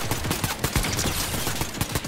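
Rapid bursts of gunfire in a video game match, dense overlapping shots and fusillades rattling continuously at close range with no voices.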